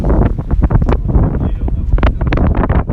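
Gusty wind buffets the microphone on a boat at sea between Saint Martin and Saint-Barthélemy, a steady low roar with rushing swells and flapping bursts throughout.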